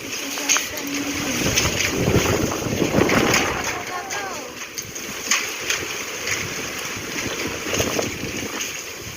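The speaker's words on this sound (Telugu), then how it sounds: "గాల్దుమారం చూడండి బాగా వస్తుంది సాయంత్రము" Strong evening wind in a dust storm near a village house buffets with a gusty, rumbling rush that swells and eases while a person talks over it.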